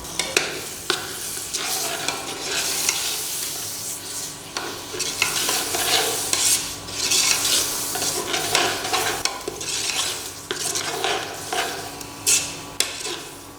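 A spoon scrapes and clinks around a pot as coriander powder and turmeric are stirred in for turkey dum biryani, food sizzling steadily underneath, the stirring strokes coming in irregular bursts.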